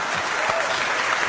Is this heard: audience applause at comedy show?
yes